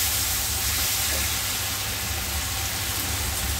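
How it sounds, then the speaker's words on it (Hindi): Kaleji peta masala paste fries in a pan with a continuous, even hiss and sizzle, steady and close with no talking. "अब ये मसाला इसको अच्छे से फ्राई कर लेना है।"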